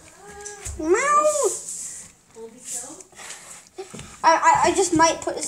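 A white house cat meows several times in short rising calls, close and fairly loud, interleaved with a person's voice that mimics meows and talks to it.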